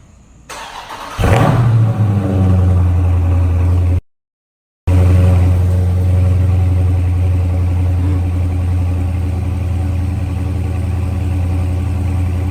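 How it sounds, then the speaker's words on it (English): A 2018 Dodge Charger Scat Pack cold-starts with a loud rev through its factory exhaust, then settles into a deep, steady rumbling idle, heard close by outdoors with a brief gap in the middle. "here we are outside for the last cold start of the Scat Pack here"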